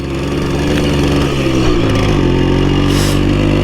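A small two-stroke Simson S51 moped engine runs loud and close, revving up and down unevenly as the throttle is worked.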